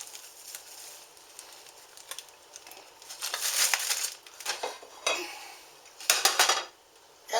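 A cold thawed burger patty set into a cold pan, heard as a few light metallic clanks and scrapes of cookware that grow busier midway, with quiet gaps between them and no talking.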